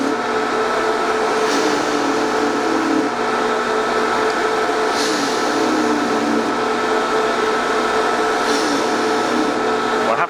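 A Japanese jewellery polishing tool runs continuously, a steady loud motorised whir with a gritty hiss and no break in its drone.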